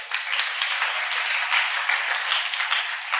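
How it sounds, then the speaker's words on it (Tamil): A church congregation claps hands together in a continuous, fairly loud burst of crisp applause, many palms striking at once with no pauses. "கைத்தட்டுங்க பார்க்கலாம்."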